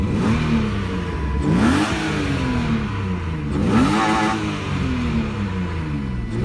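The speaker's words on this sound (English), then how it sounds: "Here's a rev." A 1991 BMW E30 318iS slicktop fitted with an S50 engine revs loudly and close by, its pitch climbing in two distinct sweeps and dropping back to idle between them, with no voices over it.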